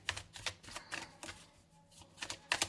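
Tarot cards shuffled and drawn from a deck, quiet close-up bursts of quick riffling slaps and flicks in an irregular rhythm, with no talk.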